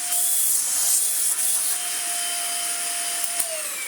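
A restored Dyson DC50 small-ball vacuum with a 600-watt motor runs with the wand attached, giving a loud, steady high-pitched whine and airy suction roar with a few faint bumps.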